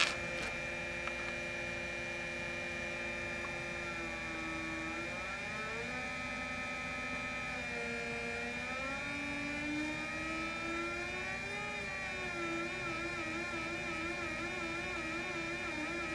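A homemade torus magnetic generator spins with a steady, fairly quiet mechanical whir whose pitch wavers and slowly shifts throughout.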